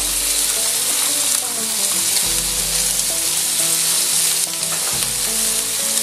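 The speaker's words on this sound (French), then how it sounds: "Le lard commence à griller. J'y mets les oignons." Diced bacon and a mix of red and white onions fry in a pot for a gluten-free beef and red wine stew, giving a loud, steady, close sizzle with a few stirring shifts and no talking.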